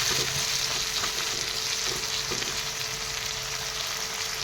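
Peas and tomatoes are stirred in a frying pan with a steady, close sizzle, marked by a few soft scrapes and knocks of the spoon throughout.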